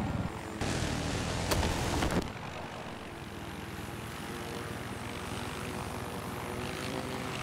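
A helicopter flies in a multiplayer shooter game, its steady loud rotor and engine drone close at first, then fading to a slightly quieter continuous hum after a burst of gunfire.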